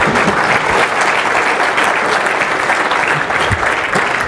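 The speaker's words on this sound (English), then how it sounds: "So thank you for the applause" Audience applause after a successful live technical demo at a talk, dense and steady clapping filling the room at close range for several seconds with no voice over it.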